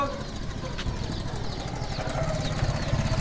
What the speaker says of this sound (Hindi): चल मोटरसाइकिल चला यार